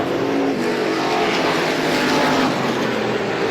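Race cars roar around the Star Speedway oval in a Strictly feature event, a loud, continuous broadband engine drone held steady throughout without a break, with no voices heard over it.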